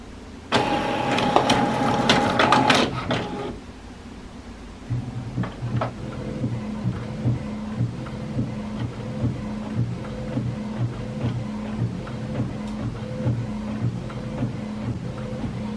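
HP Envy Inspire all-in-one inkjet printer finishing a two-sided 4x6 photo print: a brief loud mechanical whir and clatter at the start, then a steady, softer motor hum with a regular rhythmic chugging as the page feeds out.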